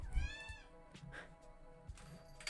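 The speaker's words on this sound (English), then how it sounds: "It's a cat." A house cat meows close by indoors, a few drawn-out, wavering cries separated by pauses, with faint background noise between them.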